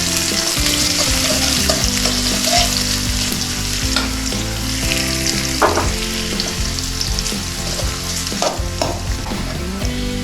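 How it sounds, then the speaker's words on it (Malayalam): Chopped garlic and shallots fry with mustard seeds in hot oil, a loud continuous sizzle close by with irregular scraping and clinking as a spoon stirs them throughout. "കടുകിൻ്റെ അധികം നമ്മൾ ഇച്ചിരി അരിഞ്ഞ് വെച്ച വെളുത്തുള്ളി, ചുവന്നുള്ളി ഇട്ടിട്ട് ഇളക്കി സെറ്റാക്കി എടുക്കുക"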